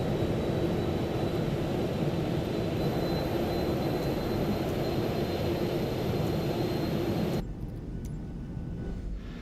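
Simulated PMDG 737-800 jet engines in Microsoft Flight Simulator 2024 give a loud, steady broadband roar with a faint high whine, cutting off abruptly near the end to a quieter hum.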